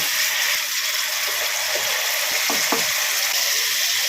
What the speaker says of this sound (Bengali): টমেটোটা ভালো মতন কষিয়ে নিচ্ছি তেলের সাথে